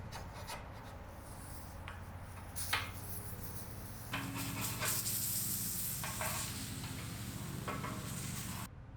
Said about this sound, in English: All right, let's flip these scallops.